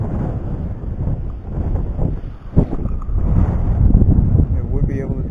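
Strong outdoor wind during public-land scouting, buffeting the microphone in a loud, steady low rumble with gusts, while someone talks over it.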